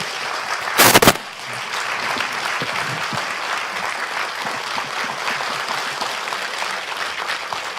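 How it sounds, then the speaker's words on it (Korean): An audience claps in steady, sustained applause at a Korean book launch to welcome the author, after a short loud burst near the start. "기다린 만큼 큰 박수로 모시겠습니다"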